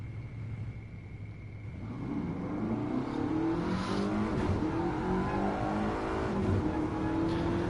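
An 831-horsepower Ford GT revs hard in Gran Turismo Sport, its engine note climbing and roaring loud and steady after a quieter opening, with no talk over it.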